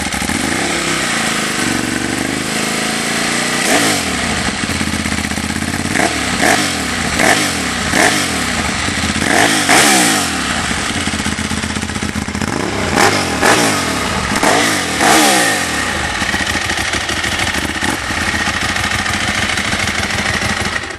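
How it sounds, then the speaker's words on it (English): Ducati 1098S sport motorcycle engine running, with repeated loud throttle blips rising and falling in pitch over a steady idle, close to the exhaust and with no talking. "here is the 1098S Ducati."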